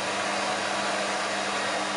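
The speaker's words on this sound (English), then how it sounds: "To use the vacuum, you push the white button on the handle. One switches it on." SV6 steam cleaner vacuum running, a steady loud motor whoosh with a constant low hum, continuous and alone.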